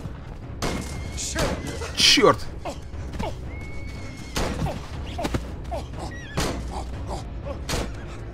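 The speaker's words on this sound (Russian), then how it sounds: "Так, опять выстрел" Gunshots in the video game Planet of the Apes: Last Frontier: several sharp, separate bangs spaced a second or two apart, mixed with someone talking and other game noises.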